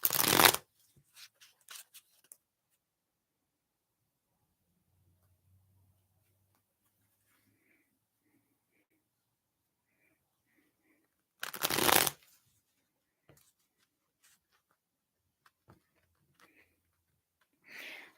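Tarot cards shuffled in two loud, brief bursts of riffling at the start and again around the middle, separated by near silence with faint scattered ticks and soft handling noises.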